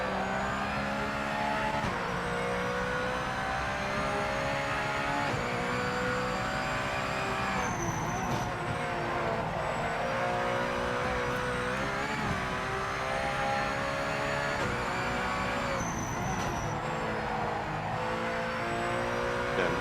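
Racing car in the video game Project Motor Racing sweeps through corners, its engine droning steadily while tyres squeal and screech in stretched tonal bursts as it turns in.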